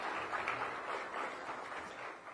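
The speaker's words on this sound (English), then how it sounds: "So big round of applause for Steve and Teresa." An audience gives faint, sustained applause for the event organizers, a soft, even wash of clapping that sounds somewhat distant.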